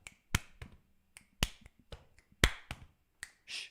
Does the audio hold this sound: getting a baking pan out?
no